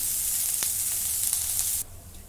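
Onion frying in a wok until reddish, a loud, close, steady sizzle that drops abruptly to a quieter crackle just before the end.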